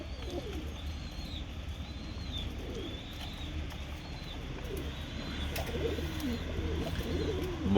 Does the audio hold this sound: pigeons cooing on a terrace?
yes